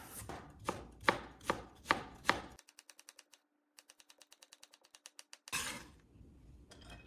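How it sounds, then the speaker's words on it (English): A knife chops cabbage into bite-sized pieces on a cutting board for yaki udon, first five loud separate thuds, then a quick run of lighter rhythmic taps, and one last cut, all close and without talk. "Roughly chop the cabbage into bite-sized pieces."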